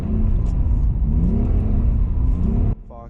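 A BMW E46 winter beater revving hard in second gear while drifting, a loud steady engine drone filling most of the stretch before dropping off abruptly near the end.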